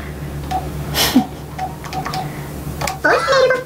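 Short telephone keypad beeps sound while a voicemail passcode is entered, scattered single tones among clicks, followed by a recorded voice prompt starting near the end.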